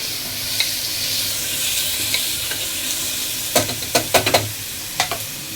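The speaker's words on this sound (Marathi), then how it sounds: "आता ह्याच्यामध्ये अनियन टाकले. आता हा चांगला लाल करायचा आहे." Onions frying in a pan for prawn pulao, with a steady sizzle throughout and a quick burst of sharp scraping clatters from stirring near the end.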